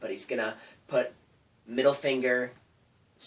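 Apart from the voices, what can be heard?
None of the usual background noises is heard.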